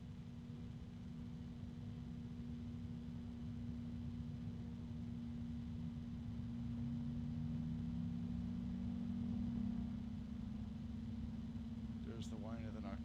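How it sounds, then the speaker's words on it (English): Lian Li and Noctua PC fans running as a steady low hum with a constant tonal drone, and a faint rising whine creeping in partway through before a brief click near the end. "There's the whine of the Noctua starting to appear."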